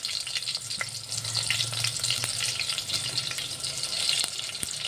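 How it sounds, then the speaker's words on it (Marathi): Chopped onion sizzles steadily in a pan as the base for a tur dal vegetable dish, with a continuous close frying hiss and faint clinks and stirring throughout. "पहिले हा एक कांदा घेतलेला आहे कापून, कांदा टाकला आहे।"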